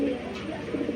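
A racer pigeon of the Giribaz breed gives a soft, low cooing call, faint and close, heard amid quiet background noise at a market stall.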